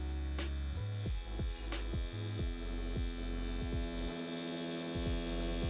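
A Bishop rotary tattoo machine runs steadily during fine line work on skin, a constant electric hum with rhythmic throbbing pulses, close and moderately quiet, no talking.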